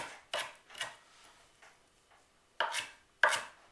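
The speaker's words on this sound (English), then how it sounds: "And I'll keep chopping this down." A knife chops vegetables on a cutting board while raw vegan sushi is prepared: sharp, close, irregular strokes, some in quick pairs, with quiet pauses between them and no talking.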